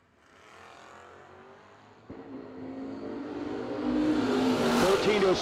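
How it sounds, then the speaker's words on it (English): Drag race cars launch down the strip at a no-delay drag racing nationals, their loud engine roar building steadily over several seconds with a sharp surge midway as the cars pull away. "great drag race right there"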